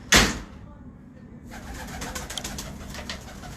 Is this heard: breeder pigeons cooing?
yes